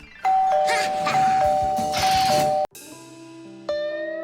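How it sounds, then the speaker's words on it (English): A cartoon doorbell rings with a bright ding-dong chime, sustained tones ringing out loud for a couple of seconds, followed by softer musical notes and another chime. "Real guests always ring the bell."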